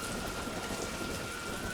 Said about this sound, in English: Incredibly, the rains indeed have arrived.